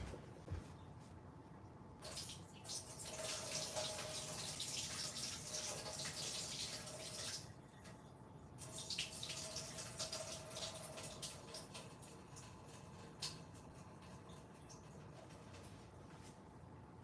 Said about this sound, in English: All right, let's go ahead and drain the water.